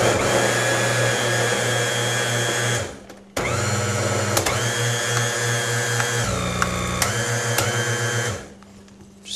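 A kitchen blender runs loud and steady, its motor whine cutting out briefly twice and restarting, with the pitch dipping as the load changes, then spinning down near the end.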